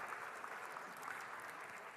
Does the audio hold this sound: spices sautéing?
no